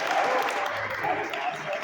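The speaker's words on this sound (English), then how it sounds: "Give yourself a round of applause." Crowd at a campaign meeting, held both in person and online, applauds in a short, steady patter of clapping at moderate distance, with some voices mixed in.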